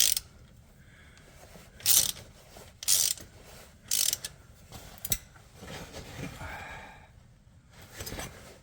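Ratchet with a large socket loosening a bolt on a Lincoln MKS during a water pump replacement, several separate bursts of rapid clicking with quiet pauses between, close by.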